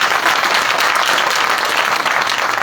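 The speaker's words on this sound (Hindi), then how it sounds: "ताली बजा दो एक बार" A church congregation at a Christmas service claps hands together in a loud, dense burst of applause that holds steady for a few seconds.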